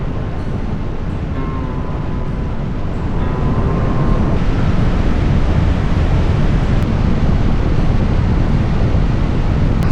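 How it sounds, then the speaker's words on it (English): Loud, steady roar of strong wind buffeting the microphone during a motorcycle ride, broadband and unbroken, like rushing air at speed with a low rumble beneath. "This is the windiest ride of my life. Way more severe than yesterday."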